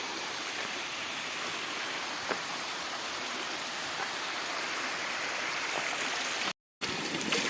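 Clean, cold spring water wells up from the ground and flows in a steady, close rushing wash, unbroken apart from one brief dropout, with no voices.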